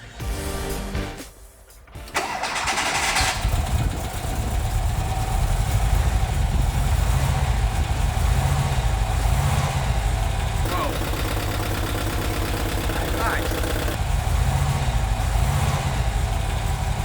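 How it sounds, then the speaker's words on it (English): A Volkswagen T3 Vanagon with a freshly swapped-in 2.1-litre WBX flat-four starts up after a short cranking gap, then settles into a steady, loud idle that runs alone for about fifteen seconds. "we can actually start the engine for the very first time since we installed it"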